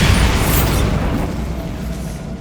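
Bombarda blasting spell in Hogwarts Legacy, one loud, close, broadband explosion that starts at full strength and slowly rumbles away over a couple of seconds.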